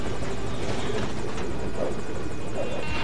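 A helicopter in a video game drones steadily with a thick rotor chop and engine whine, loud and continuous throughout, nobody speaking.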